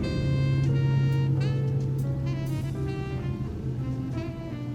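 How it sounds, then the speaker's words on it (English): Constant rumble of street traffic with engines droning nearby and occasional brief high tones and squeals over the noise. "excuse the noise because we live on a busy street"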